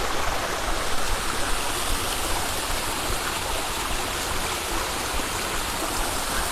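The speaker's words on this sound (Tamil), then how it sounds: "திருவண்ணாமலைக்கு மேலே இப்படி ஒரு அருவி ஓடுது." A waterfall stream in the hills above Tiruvannamalai rushes steadily and loudly, a dense, continuous roar of flowing water that fills the whole stretch with no voices over it.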